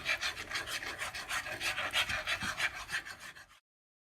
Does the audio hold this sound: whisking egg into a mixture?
yes